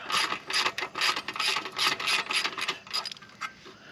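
A ratchet clicks rapidly as it breaks loose the exhaust clamp on a 2024 Kawasaki ZX6R 636 during a slip-on muffler install, bursts of sharp close-up clicking in quick strokes, no voices.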